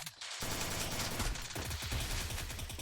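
Rapid bursts of video game gunfire crackle continuously, dense and loud, with overlapping shots and no pause.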